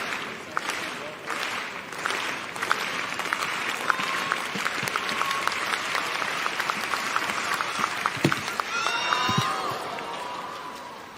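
A stadium crowd at a para athletics jumping event at the Kobe 2024 World Para Athletics Championships claps and cheers steadily throughout, a dense roar of applause with scattered louder claps and a few shouts.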